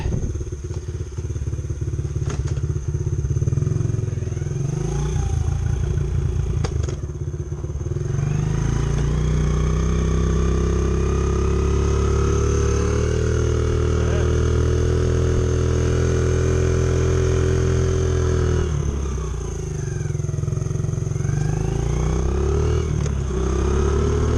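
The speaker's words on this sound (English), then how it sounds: "go up the hill in second gear here and see what happens. Just put it under load, go full throttle with it." A Honda XR70 motorcycle fitted with an 88cc big bore kit pulls hard uphill in second gear at full throttle, its engine droning loudly and steadily close by, with the pitch climbing and a brief easing near the end.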